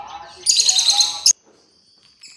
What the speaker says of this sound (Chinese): 快点奶喂小鸟